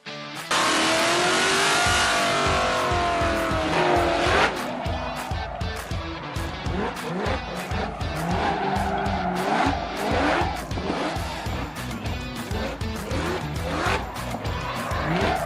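Cars drifting, played back from a recording, with a loud, sustained tire squeal over revving engines and rapid gear changes, continuous and close throughout.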